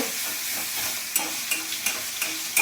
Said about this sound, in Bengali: এটা ভালো করে মশলাটাকে কষি, এটা ডিমের কষা বানাবো।